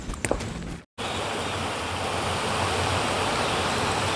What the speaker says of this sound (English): Alright, got this nice little river here.